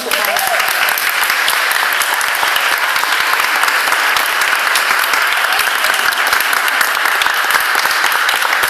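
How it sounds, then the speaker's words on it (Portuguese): Church congregation at Mass breaks into sustained applause, a thick, even roar of many hands clapping continuously at close range with no pause. "Então, vamos dar uma salva de palmas também."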